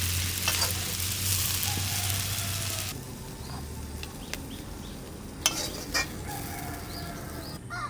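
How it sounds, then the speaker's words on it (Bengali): Bitter gourd and onion fry in a pan with a busy crackling sizzle, loud at first then quieter, broken by a few clinks of a utensil against the pan and no voices. "পেঁয়াজ দিয়ে উচ্ছে ভাজা হয়ে গেছে"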